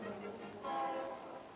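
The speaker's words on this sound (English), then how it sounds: "the train arrives in the heart of the big city" A train rolls into the heart of a big city, sending out a sustained rumbling rail noise with a horn-like tonal blast partway through, fairly near and steady.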